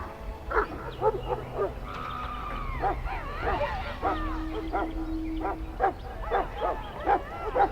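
A Mabari war hound in the Dragon Age: Origins video game barks repeatedly in short, sharp bursts with yips and whimpers, loud and close, while game voices talk over it.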